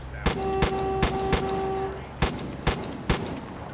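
Gunfire in Far Cry 5 rings out as single sharp shots, a few spaced across the clip, over steady game ambience with tonal hums in the middle.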